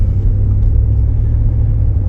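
Steady low road rumble from inside a car driving through the southernmost part of Acadia National Park on Mount Desert Island, Maine, in winter, an even continuous engine and tire drone with no talk.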